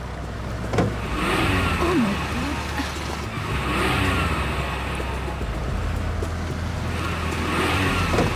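A car's engine revs repeatedly while the car is stuck, with a close, surging drone that swells and eases in waves.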